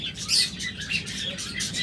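A blue fallow budgerigar gives a quick run of bright, high chirps and tweets at close range, repeated in short bursts with no talking.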